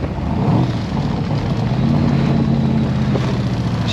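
An AC Cobra's engine drones steadily from inside the cabin as the car is driven, with a low rumble that rises in pitch partway through under acceleration, with no talk.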